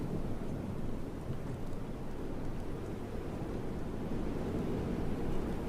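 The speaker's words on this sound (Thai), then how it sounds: "โอ้ฟ้าผ่าระยะประชิดนะฮะ" A close lightning strike and thunderstorm in a Roblox zombie game: a steady, loud rolling rumble with rain-like hiss runs the whole way, without a sharp separate crack.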